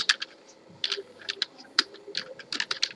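Fast typing of an HTML h2 tag on a computer keyboard, a run of sharp, close key clicks in uneven bursts with short pauses, alone with no speech.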